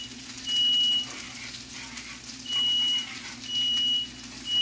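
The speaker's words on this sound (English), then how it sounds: "The alarm going off again." Smoke alarm in a home kitchen during cooking, giving three or four clear high beep bursts about a second long, spaced roughly evenly over a steady low background hum.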